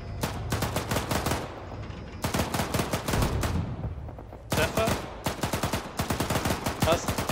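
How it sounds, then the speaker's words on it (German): Rapid bursts of automatic gunfire from an Arma 3 military battle, loud and close, coming in three dense volleys of fast repeated shots separated by short gaps. "Die schießen. Und wir werden beschossen."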